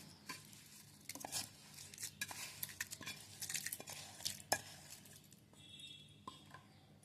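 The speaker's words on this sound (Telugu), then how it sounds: "ఇప్పుడు పచ్చడిలోకి పోపు మొత్తం వేసుకుందామండి" A spoon stirs tempering into cucumber chutney, giving soft scrapes, light clinks against a dish and faint sizzle, quiet and close, in irregular small bursts.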